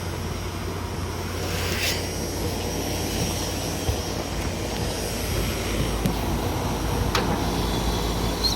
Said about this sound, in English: This fan's running constant.